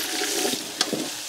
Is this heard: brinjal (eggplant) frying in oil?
yes